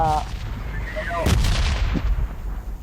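Gunfire in the battle-royale shooter PUBG Lite, a few sharp shots and booming reports cutting through dense game noise, with a brief whistling tone and loud crackling bursts close up.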